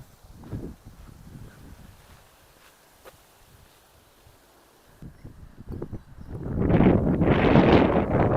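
Breezy morning wind on a creekside walk, quiet rustling and soft buffeting at first, then a strong gust swelling into loud roaring microphone wind noise near the end.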